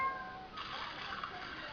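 An animal gives a thin, high kitten-like meow, then a second drawn-out mew that fades. Both are faint and close, over a quiet background.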